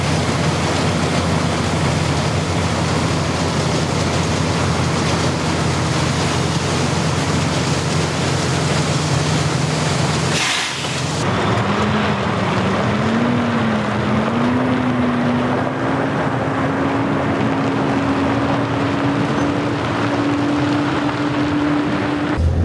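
A grain bin sweep auger runs as a steady mechanical drone; after a brief sharp break midway, a rising whine climbs and holds beneath the constant hum.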